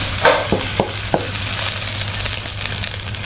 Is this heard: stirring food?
yes